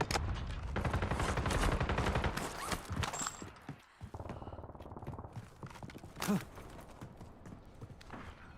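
Gunfire during a firefight in Call of Duty Warzone: dense, rapid shots rattle for several seconds, then thin out into scattered bursts and one loud report, with voices talking throughout.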